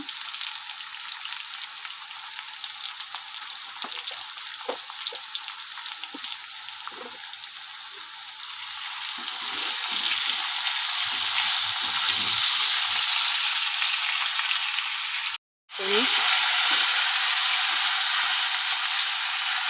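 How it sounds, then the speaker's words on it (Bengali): Steady, close frying sizzle of potatoes in a pan, crackling and hissing throughout with a few stirring scrapes, briefly cutting out near the end before resuming. "আলুটাও বেশ আমার ভালো করে ভাজা হয়ে গেছে"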